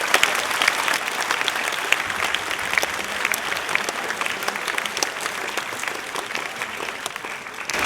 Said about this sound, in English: let's give our 8th graders all a wonderful round of applause